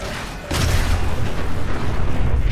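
A booming nuclear blast from a self-destructing robot in the Fallout 4 video game erupts suddenly after a quieter moment, then a loud rumbling roar sustains to the end.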